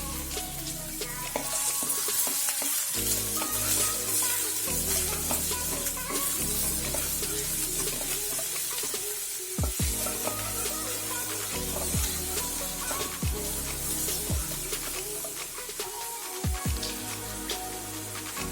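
Chopped medium onion fries in oil in a pan for vegetable fried rice. A loud, continuous sizzle runs throughout while a utensil stirs and scrapes at irregular intervals, close up and without talk.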